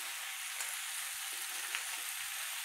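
Capsicum and paneer fry in an open pan with a steady, close hiss and sizzle, faint occasional pops, and no voices.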